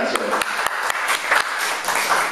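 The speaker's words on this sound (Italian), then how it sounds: "prego, un applauso a Orazio Cardinali" Audience applause for Orazio Cardinali at a January 2020 event, with brisk clapping spread across the room and a voice speaking over it.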